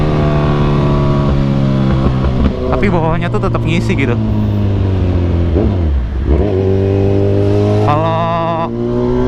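Kawasaki Z1000 Sugomi 1000 cc naked motorcycle held in third gear, its engine droning loud and close and rising in pitch, dipping briefly midway before pulling again, while someone talks over it.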